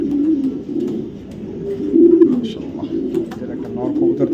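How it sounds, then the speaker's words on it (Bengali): A light-coloured female racing pigeon with red-orange eyes gives repeated low, throaty coos close to the microphone, while someone talks over the cooing. "বিআরপিএফসি ক্লাবের 2023-এর লাইট কালারের একটা মাদি কবুতর, আনার চোখের।"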